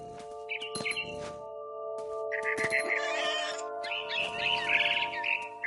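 Bird chirping in the video game What Remains of Edith Finch, several short bright tweets in bursts over a steady musical tone, with speech-like sounds in between.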